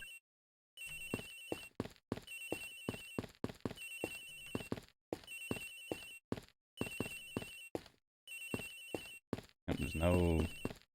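A telephone rings repeatedly in the Ace Attorney Investigations video game, sounding in regular bursts separated by short silences, with a brief voice near the end.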